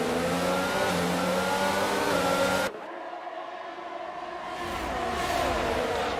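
Formula 1 cars in a French Grand Prix racing game launch off the start, several engines revving loudly together, then the sound cuts to a quieter, thinner engine drone that builds again.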